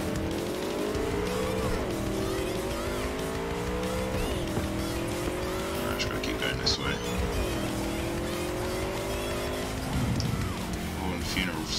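Car engine in the video game Cyberpunk 2077 revving and shifting through gears with tire squeal on a corner, loud and continuous while a voice talks over it.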